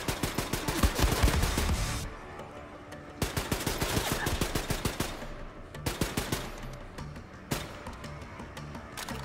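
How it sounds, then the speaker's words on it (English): Gunfire from Wolfenstein II crackles in rapid automatic bursts with short pauses between them. The sharp reports sound loud and close, and no voices are heard. "A few extra shots just to make sure."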